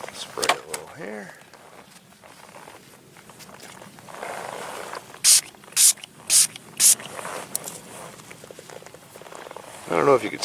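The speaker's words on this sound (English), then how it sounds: "Spray a little here." Cleaner sprayed onto the brake lever of a Royal Enfield motorcycle: four short, sharp hissing spray bursts in even rhythm, close to the mic, with someone speaking before and after.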